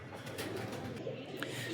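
Pigeons in a breeder's loft coo softly, a faint low burble of overlapping calls under quiet room noise.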